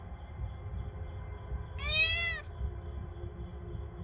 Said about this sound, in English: aren't you that wee cat that stopped by the other day?